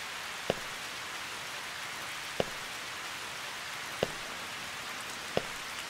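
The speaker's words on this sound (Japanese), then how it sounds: "雨が降っていた。" Steady rain falls in the Oninaki game trailer, a soft even hiss punctuated by four sharp single drips or taps spaced a second or two apart, with no voices.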